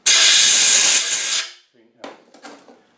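Brake cleaner blasts from an aerosol can onto engine parts of a Land Rover 200Tdi during gasket work, a loud, close hiss that lasts about a second and a half before cutting off, followed by a few faint clicks and handling noises.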